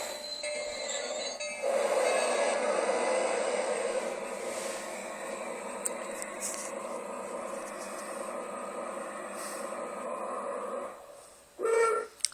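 A Bachmann Spectrum 2-6-0 Mogul model locomotive, South Pacific Coast, rumbles steadily along its track with a continuous whirring drone and faint clicks. It fades down near the end, followed by a brief final squeal.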